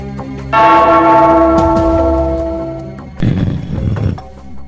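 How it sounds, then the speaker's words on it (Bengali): A large bell rung in a Gopal Bhar cartoon gives one loud, sustained toll that rings out and slowly decays, followed by a brief burst of rougher clanging noise near the end. "ওই ঘন্টাটা বাজাও, বাজাও।"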